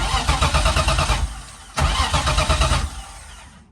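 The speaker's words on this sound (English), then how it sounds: "we're gonna press the clutch and crank it" An engine of a 1999 car with a manual gearbox cranks twice while the clutch pedal is held down, two bursts of steady rhythmic starter whirring separated by a short pause, loud and close with no talking.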